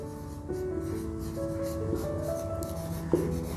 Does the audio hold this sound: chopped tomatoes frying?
no